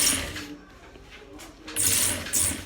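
Sewing machine stitching the seam of a gents suit, a soft running whir that swells into two louder bursts of stitching near the end, close by with no talk.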